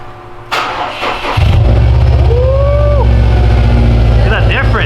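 A car engine fitted with a tuned downpipe exhaust cranks and fires, then settles into a loud, deep, rumbling idle that holds steady close by.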